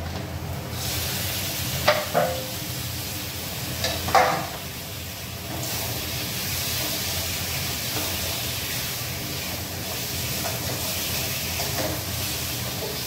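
Tomatoes tipped into hot oil and spices for a crab curry, giving a steady broad sizzle throughout with a few sharper crackles and pops near the start, loud and close with no talking.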